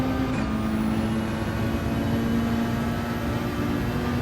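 A Volkswagen Beetle racing nearby in Gran Turismo 7 gives off a steady engine drone with a sustained tonal whine and a brief pitch shift near the start, continuous and fairly loud with no talk.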